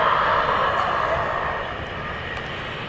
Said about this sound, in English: Get a quick glimpse at a Super Cargo Master just coming in.